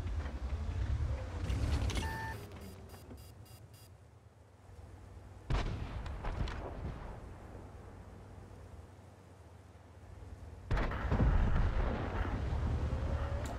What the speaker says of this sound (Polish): Teraz Hege postanowił wyjechać, mamy T-4-85M, strzelił w nas